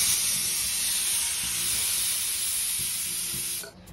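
A pressure cooker steaming with a batter for khandvi inside, a loud, steady hiss of released steam that runs without a break and cuts off abruptly near the end.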